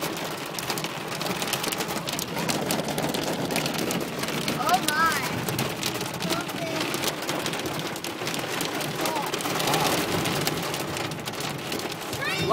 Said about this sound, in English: We're in a kind of like a little hail storm thing right now. Kind of golf ball size.